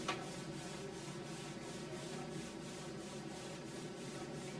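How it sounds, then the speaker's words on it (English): Palms rubbing briskly up and down on the legs as a hand warm-up in a qi gong mindful movement session: a steady, soft swishing friction with faint rhythmic strokes, continuous and close, with no talking. "So let's rub the hands on the legs."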